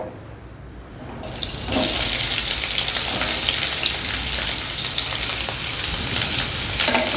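Onion goes into hot oil in a kadhai: after a quieter second, a loud, sudden sizzle bursts up and stays steady and close, with faint occasional stirring.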